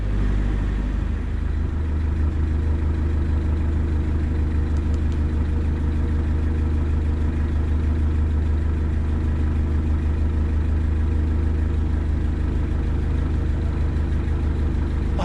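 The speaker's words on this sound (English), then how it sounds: "I'll hold back and let that approaching boat through." A boat engine on the River Thames drones in a loud, close, unbroken low rumble that holds steady without pause.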